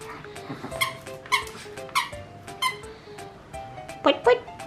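A dog plays with a squeaky skunk toy, producing a run of sharp, irregular squeaks close by, with someone talking over them throughout.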